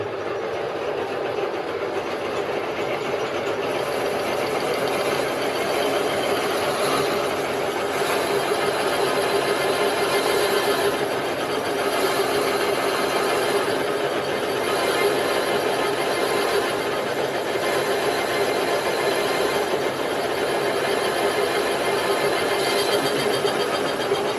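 A metal lathe turns and cuts a bearing part for an IZh-49 motorcycle, giving off a steady, continuous mechanical whir with a constant hum and faint rhythmic pulsing. It is moderately loud throughout and nobody talks.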